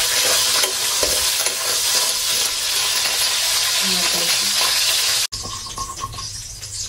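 Onion fries in a pan among dishes cooked for a fiesta, a loud, dense sizzle carrying on with occasional stirring scrapes, briefly cutting out before resuming with lighter clatter.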